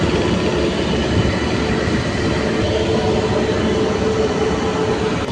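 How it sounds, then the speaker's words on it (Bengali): The Biswabharati Intercity train is slowing to a halt at a red signal, heard as a steady loud rumble of wheels and rail cars that carries on without a break, with no voices. "ফের বোধহয় দাঁড়াবে, রেড হয়ে আছে সিগন্যাল। ফের দাঁড়ালো। বিশ্বভারতী ইন্টারসিটি।"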